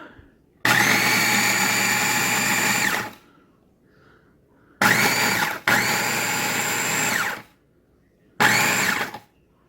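A Farberware 4-cup food processor runs in loud whirring bursts: one long run of about two and a half seconds, then two shorter back-to-back pulses and a final brief burst, with near silence between them.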